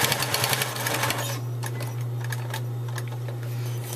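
A sewing machine stitches a fabric strap onto a container, its needle clattering in a quick, steady rhythm close by with a constant motor hum underneath, running faster at first and then slowing to a gentler pace.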